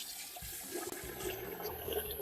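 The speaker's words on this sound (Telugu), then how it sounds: "ఇప్పుడు వాటర్ పోసేసుకున్నాము" Water splashing and rushing into a vessel of basmati rice being washed, a steady close pour with a brief break near the middle, no talk.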